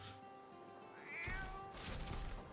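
A cat meows in a video game trailer, two short mid-pitched cries against quiet music and ambience.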